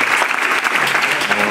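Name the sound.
audience applause at concert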